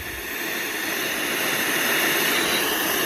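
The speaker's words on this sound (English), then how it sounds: "That's a loud ass fan." A loud fan roars with a steady, dense broadband whoosh like a propeller airplane, swelling slightly in the first moment and then holding constant, with no talk.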